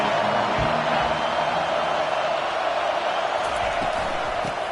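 Steady stadium crowd roar swelling in a football video game on a third-down defensive stand, a dense continuous wash of cheering with scattered whoops throughout.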